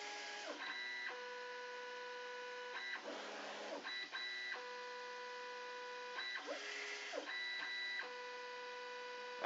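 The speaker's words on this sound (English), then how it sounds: "and now it's going to do its auto bed leveling." A 3D printer runs its auto bed leveling routine, with steady high-pitched stepper motor whines that shift between tones, broken by short buzzy probing moves, over a constant low hum.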